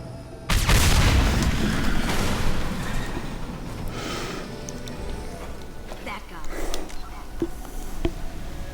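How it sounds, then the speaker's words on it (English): Mass Effect gameplay erupts in a deep booming explosion followed by rumbling combat blasts and scattered impacts, loud and dense in the game's chaotic action. "So much chaos and explosions today!"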